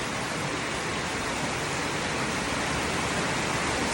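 Heavy rain pours steadily near a nipa hut while floodwater rushes past, forming a dense, constant roar with no breaks and no voices.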